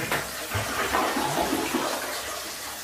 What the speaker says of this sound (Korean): 뜨거운 물 나오는지 틀어놓도록 해보겠습니다